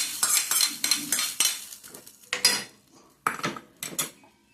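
A spoon stirs Burmese soup in a pot with ghee, giving a series of close, loud clinks and scrapes of metal against the pot in irregular bursts with short pauses, no voices.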